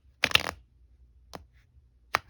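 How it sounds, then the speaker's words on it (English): Short papery riffles and snaps of tarot cards being shuffled, close up, in three quick bursts separated by silence. "Let's do another shuffle"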